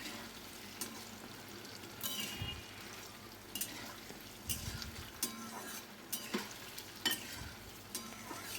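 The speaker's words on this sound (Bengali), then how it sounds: "1 চিমটি মতো লবণ দিয়ে পনিরগুলো ভেজে নিচ্ছি" Paneer pieces with a pinch of salt frying in a pan, a steady close sizzle broken by repeated stirring scrapes and clinks, with no talk.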